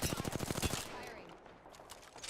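Rapid automatic gunfire from a video game shooter, a fast rhythmic burst of about a dozen shots in the first second, then trailing off into quieter game ambience with faint scattered sounds.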